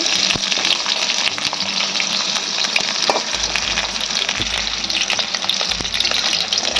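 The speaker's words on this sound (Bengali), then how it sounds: "পটলগুলো একইভাবে ভেজে নেব। পটলের সাথে আমি আলুও দিয়ে দেবো, একই সাথে ভেজে নেব।" Pointed gourd and potatoes fry in hot oil, a loud, steady, dense sizzle with no pauses.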